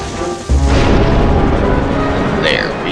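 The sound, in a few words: bomb fish exploding in video game Twilight Princess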